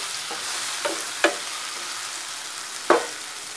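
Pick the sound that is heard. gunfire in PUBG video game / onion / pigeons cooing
onion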